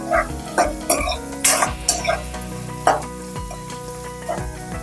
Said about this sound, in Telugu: ఈ ఆనియన్స్ బాగా వేగాలి